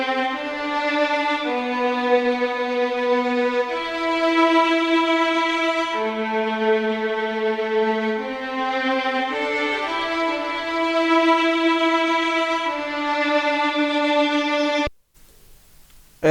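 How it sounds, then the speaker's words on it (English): A layered first-violin sample from Sonatine Orchestra carries a slow, bowed legato melody of long sustained notes at an even moderate level, stopping abruptly near the end before a brief silence. "I layered it up with a first violin from Sonatine Orchestra"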